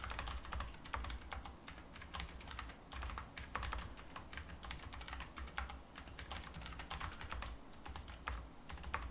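Fast, close clatter of typing on a computer keyboard while writing compiler code, with irregular bursts of keystrokes and no talking.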